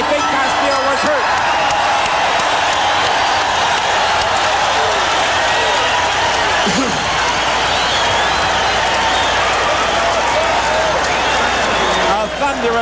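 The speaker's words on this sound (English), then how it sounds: "A thunderous ovation from this crowd" A thunderous ovation from a boxing arena crowd at the Julio Cesar Chavez vs Ruben Castillo title fight: dense, sustained roar and applause filling the whole stretch, loud and continuous, with voices mixed through the din.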